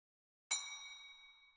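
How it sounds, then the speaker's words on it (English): A single bell struck once as a side character's theme, ringing out in one bright strike with a long shimmering decay that fades slowly, alone with no other sound. "Use a single bell."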